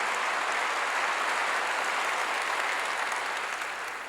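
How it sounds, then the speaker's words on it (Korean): A church congregation applauds during a sermon on prayer, a steady dense wash of many hands clapping at a moderate distance that fades slightly toward the end, with no talking over it. "박수를 칠려면 치고 말려면 말고."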